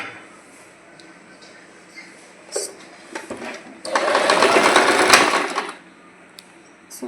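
A sewing machine stitches a blouse, a steady close burst of motor and needle running for about two seconds after a few short clicks and handling noises.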